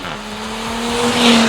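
Stage 2 tuned Audi revving hard with a steady engine drone that climbs in pitch over a second and a half, loud and close with no voices.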